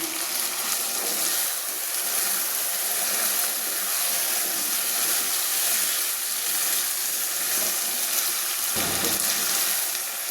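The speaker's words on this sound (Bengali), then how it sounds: "এই সময় সামান্য একটু জল দিয়ে আমি আরেকটু কষিয়ে নেব।" Kabuli chickpeas stir-fry in rendered mutton fat after a splash of water, giving a steady, close, even hiss of sizzling and steam with a brief low clatter near the end.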